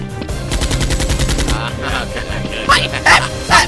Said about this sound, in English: the soldier spots his returning teammates, who fire repeatedly at SEAL-X